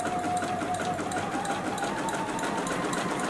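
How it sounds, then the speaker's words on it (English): A JUKI sewing machine hums steadily while stitching a fabric beverage coaster, its needle mechanism producing a continuous fast mechanical drone, close and even throughout. "Line that drawn line back up with the notch on the presser foot and start to sew."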